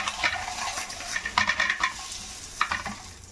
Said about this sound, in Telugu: వేసి బాగా వేయించుకోవాలి ఎగ్స్ని.